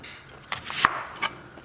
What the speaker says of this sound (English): first, you want to chop all your vegetables. So I'm starting with the onion.